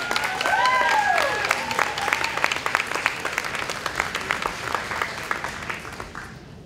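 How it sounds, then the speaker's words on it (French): A crowd at an evening women's march event in Clarence-Rockland gives warm, sustained applause with scattered cheers and voices, gradually thinning out toward the end. "Je pense que ça vaut une bonne main d'applaudissements à tout le monde."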